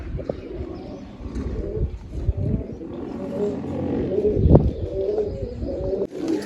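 Pigeons coo in soft, repeated low calls from a household loft, several birds overlapping close by with faint shuffling and a brief louder burst near the end.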